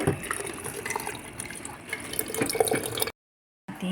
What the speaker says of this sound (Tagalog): Ayan, lalagyan natin siya ng tubig.